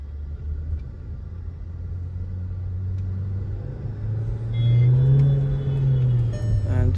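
A Skoda Octavia 1.8 TSI petrol engine hums low and steady from inside the moving car, swelling briefly as it pulls harder near the end, with no voices.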